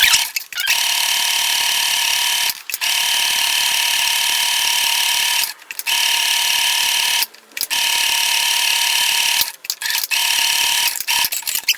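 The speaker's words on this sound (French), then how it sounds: "Donc là on a cousu notre premier pli" Sewing machine stitching a pleat along the fold line of a garment, loud and close, running in long steady whirring bursts of several seconds each, broken by brief pauses; no talking.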